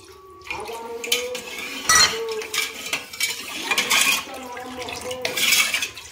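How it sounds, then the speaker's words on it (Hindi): Sugar being stirred into lukewarm water in a pot, with a metal spoon scraping and clinking against the pot in irregular strokes, close and moderately loud, with quiet sounds of the kitchen in the background. "ये मम्मी ने हल्के गर्म पानी में चीनी डाल दिया और इसको अच्छे से हिला रही है ताकि चीनी मिक्स हो जाए"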